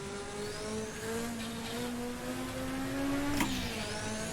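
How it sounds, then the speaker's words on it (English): A race car from the DRM Revival Pack in Assetto Corsa pulls at high revs, a steady engine drone with rising whistling tones and a sharp hiss near the end as the wastegate vents. "All kinds of wastegate noises and whatnot"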